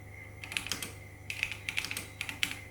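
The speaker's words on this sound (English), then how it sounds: "Helps if I actually type reasonably." Fingers type in quick uneven bursts on a computer keyboard, crisp close clicks clustered in two short runs over a faint steady hum.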